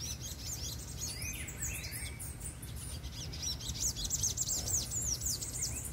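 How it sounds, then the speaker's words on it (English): Small black birds chirp in trees at Bamboo Cathedral, giving scattered, faint high tweets and short calls over a low, steady background rumble, with no voices. "Two little black birds sitting in the tree."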